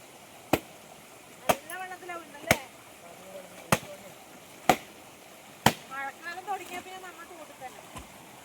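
Wet clothes are hand-washed at a stream, slapped hard against a stone in sharp, evenly spaced beats about once a second, with running water and someone talking between the blows.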